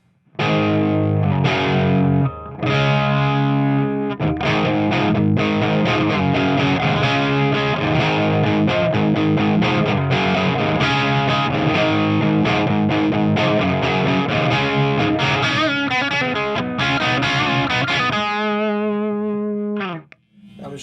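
Electric guitar played through a custom-built 100-watt Marshall 1959T clone amp with the bright switch on: loud, dense strummed chords ring continuously for about eighteen seconds, then a final chord sustains and cuts off.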